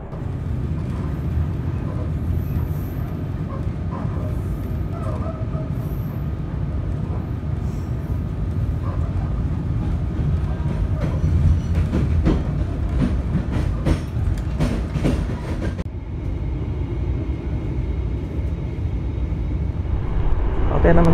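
Banyubiru passenger train on the Solo–Semarang line passing straight through Salem station, a loud continuous rumble and rattle of wheels and wagons with clickety-clack sounding throughout, steady for about twenty seconds.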